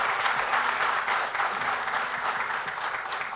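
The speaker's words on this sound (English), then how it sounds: "Can we have a loud round of applause for Michelle and the Red Cross, please?" An audience applauds Michelle and the Red Cross at an Alexa conference, a dense, steady wash of clapping that holds loud and even throughout.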